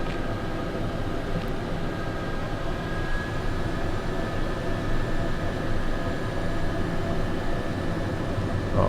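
Steady broadband engine roar inside the cockpit of a Pilatus PC-12NGX turboprop lined up on the runway, a continuous loud drone with a faint tonal whine and no talk.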